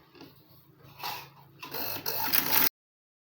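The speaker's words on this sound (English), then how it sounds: "So now I will be sewing it." Short bursts of a sewing machine stitching Ankara blouse fabric, close and fairly quiet, building to a faster run before cutting off abruptly.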